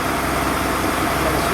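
A project car's engine idles just after starting, with no choke fitted, making a steady, loud, rough low rumble that runs continuously through the short stretch.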